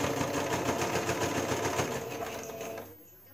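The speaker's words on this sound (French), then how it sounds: "Et on continue à coudre." A sewing machine stitches fabric along a garment neckline with a fast steady mechanical chatter, close and even, slowing and stopping near the end.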